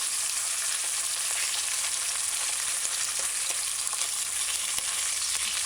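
Ham and egg fry together in a pan for a Jamaican breakfast sandwich, giving a steady, loud, close sizzle with fine crackling throughout and no voices.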